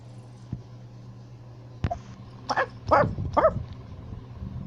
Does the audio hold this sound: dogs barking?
yes